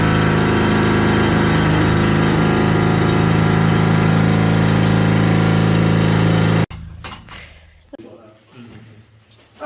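A compressed-air rock drill bores into the face of an underground gold mine at Bendigo, Australia, with a loud, steady mechanical roar for about six and a half seconds before cutting off abruptly, leaving quieter rumble and people talking.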